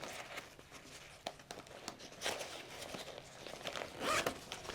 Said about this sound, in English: Zip that away.